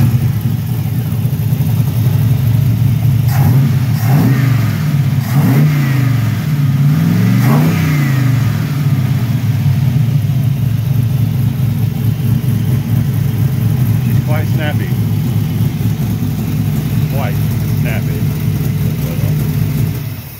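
A carbureted 5.3 LS V8 runs on a stock factory ECM, giving a loud, close, steady engine rumble with a few quick revs early on that settle back to a rough idle, while people talk faintly nearby.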